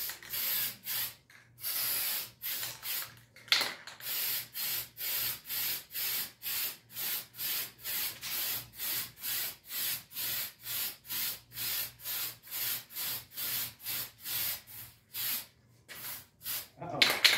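Spray paint can hissing in rapid repeated bursts while painting an electric guitar, the spray sputtering and cutting out rhythmically as the can runs low, fairly quiet and close.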